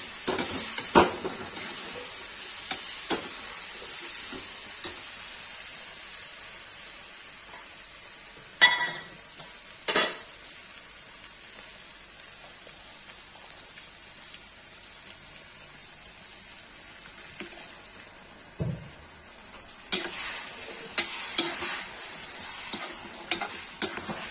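Spoon stirring ground tomato into frying eggplant curry, Kashmiri tomato-baingan style, with a steady soft sizzle and scattered scraping clinks of the utensil against the pan, occasionally louder bursts.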